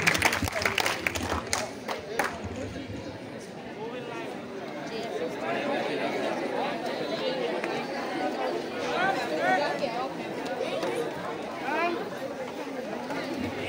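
A school audience claps for the participants, a loud burst at the start that fades into crowd chatter and murmuring voices.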